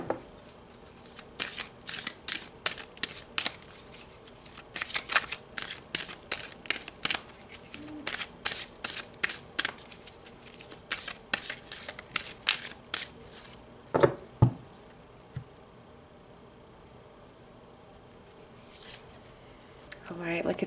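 Tarot cards shuffled by hand at close range, producing dense runs of rapid papery flicks and riffles broken by short pauses, with a couple of louder taps near the end.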